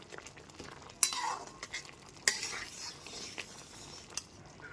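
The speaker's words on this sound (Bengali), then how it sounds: "গরম মশলা গুঁড়োটাও খুব ভালো মতো মিশিয়ে নিচ্ছি" Spoon stirring garam masala powder into chana dal cooked with coconut in a metal pot, with two sharp clinks against the pan amid soft scraping and faint sizzle, no talk.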